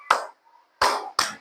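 Three sharp hand claps ring out during a counting clap game, one on its own, then a pause before two more in quick succession, close and fairly loud with no talking in between.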